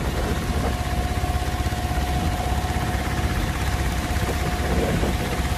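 A small motorboat engine runs steadily on a Vietnamese waterway, giving a loud, constant, close-up rumbling drone with a fixed tone throughout and no talk over it.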